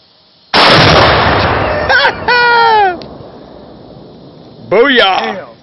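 A one-pound Tannerite charge beneath a bowling ball and a microwave goes off in one sudden loud blast that rolls into a long rumbling decay. A voice shouts briefly partway through, and another short vocal burst follows near the end.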